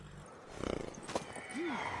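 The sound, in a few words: horse (mare) in video game The Witcher Wild Hunt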